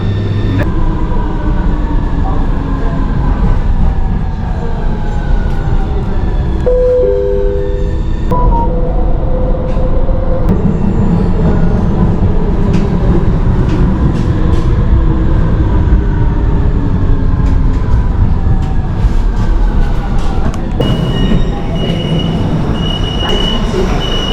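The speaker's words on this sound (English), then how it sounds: "so this is the underground train" Continuous loud rumble of a driverless underground metro train in motion in Brescia, Italy, with rattling wheels, squeals and shifting tonal whines, heard from inside the carriage.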